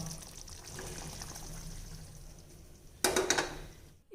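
A quiet steady hiss runs until a short splash of tamarind mixture pours into a pan of sautéed brinjal near the end, lasting about half a second.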